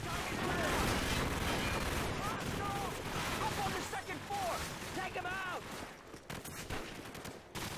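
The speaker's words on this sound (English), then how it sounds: "bullets just come through 4 walls, you know, from a battlefield you're not even looking at" Gunfire rattles across a Modern Warfare video game battlefield in dense, continuous volleys with booming impacts, loud throughout under game voices and someone talking.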